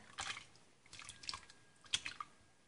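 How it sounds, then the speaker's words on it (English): Canned diced tomatoes pour from the can into a soup pot as a few quiet, wet plops and splats in short bursts, close by with no talking. "I have a can of already diced tomatoes that I'm going to pour in there"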